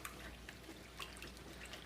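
Fresh-harvested kale is swished and agitated in a sink full of water, giving faint, steady sloshing with scattered drips and small splashes, close by and without any talk.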